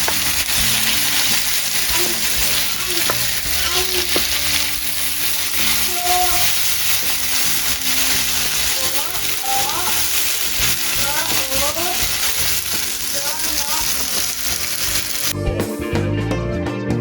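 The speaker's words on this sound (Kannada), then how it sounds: "ಸೋಯಾ ಚಂಕ್ಸ್ ಇವಾಗ ಶಾಲೋ ಫ್ರೈ ಆಗ್ತಾ ಇದೆ." Marinated soya chunks shallow frying in oil on a medium flame, giving a steady, dense sizzle throughout, with faint voices and clinks in the background.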